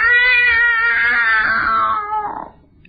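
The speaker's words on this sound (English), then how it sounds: "A cat sat in the alley like a guard on post, meowing at intruders" Cat in an alley gives one long, drawn-out meow that slides downward in pitch and fades out, close and clear with nothing else around it.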